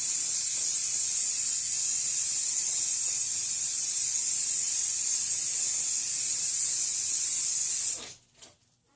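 A steady, loud hiss of spray adhesive from an aerosol can being sprayed onto a closet door continues for about eight seconds, then cuts off abruptly into near silence.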